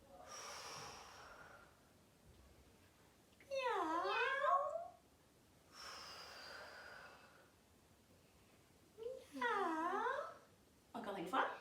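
During a kids' yoga session in the cat pose, voices mimic a cat's meow twice, each rising and falling cry set between soft breathy exhalations and quiet instruction, close and moderately loud.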